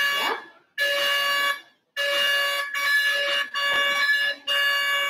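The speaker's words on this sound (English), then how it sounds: "Kindly check your buzzers." Quiz buzzers tested one after another at a spelling bee give long, loud, harsh electronic tones, four sustained blasts separated by short silences, in an indoor hall with no talking during them.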